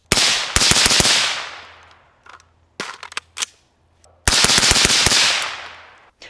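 A SIG MCX Virtus rifle fires in two rapid bursts of several sharp, loud, close shots each, separated by a short pause filled with a few lighter clicks and clacks.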